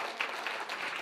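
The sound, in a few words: applause of thanks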